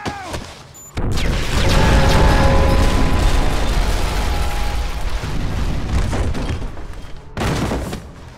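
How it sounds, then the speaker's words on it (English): A loud explosion from the Call of Duty Modern Warfare game bursts in after a brief lull, its dense roaring blast and crashing debris sustained for several seconds before cutting out, with a short rumbling tail. "This explosion brutally wounds Soap"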